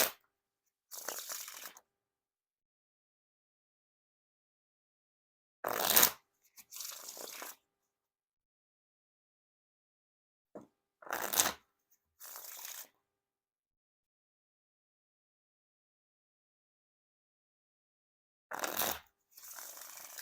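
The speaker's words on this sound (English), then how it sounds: "And now time for the RiffleShuffle or Bridge Shuffle." A deck of Orchestra playing cards is riffle and bridge shuffled four times in a quiet room, each a quick crisp fluttering riffle followed by a softer cascading bridge, separated by long silences.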